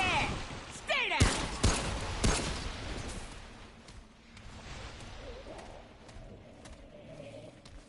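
In the video game Remnant From The Ashes, a few sharp, loud gunshots crack in quick succession and then give way to a lower, chaotic din of fighting, with a voice talking over it.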